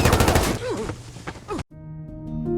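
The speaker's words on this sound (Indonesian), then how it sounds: "tentara itu menghujani mereka dengan peluru" Soldiers fire a rapid burst of guns in a zombie series episode, loud and dense over dramatic music and rumbling, cutting off abruptly before a sustained musical tone.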